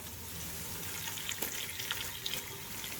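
Sliced lemon sautéing in a pan for mutton pulao, a steady close sizzle with faint stirring scrapes and small crackles throughout.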